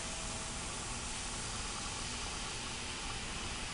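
An airbrush held close to the surface sprays paint for fine detail lines, giving a steady, even, faint hiss of compressed air that runs unbroken throughout with no voices.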